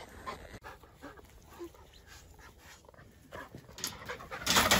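A dog pants with quick, rhythmic breaths close by in a countryside setting, moderately loud with a few small rustles.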